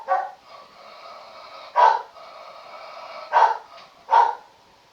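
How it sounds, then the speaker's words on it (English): A dog barks in three loud, separate bursts, close by, with a steady whine or whimpering carrying on between the barks. "Why are you barking so crazy?"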